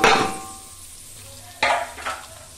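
Sizzling and stirring as beetroot, carrot and curry leaves fry in oil for pulao, a crackling hiss with a few scraping strokes of a spoon against the pan, close and without talk.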